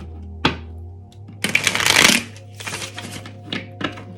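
A Rider-Waite-Smith tarot deck is shuffled up close in a quiet room, giving a single sharp tap followed by a dense riffling flutter of cards, then several softer taps and shuffles.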